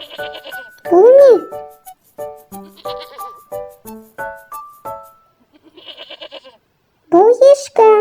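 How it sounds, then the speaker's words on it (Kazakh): A goat bleats loudly twice, near the start and again at the end, with a voice speaking short Kazakh phrases in between. "Бұл ешкі."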